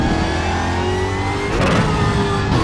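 A Ford GT3 race car in the RaceRoom sim holds a steady engine drone, with a brief louder rev surge partway through and continuous mid-pitched engine noise throughout.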